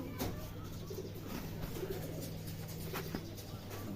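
Rajshahi Giribaz pigeons coo in soft, low, repeated throaty calls close by, over a steady background hum.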